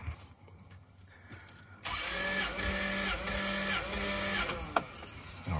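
Starter cranking a 1997 Toyota Land Cruiser 1FZ-FE inline-six during a compression test, a quiet pause followed by a sudden loud, steady, rhythmic whirring chug that runs nearly five seconds at close range.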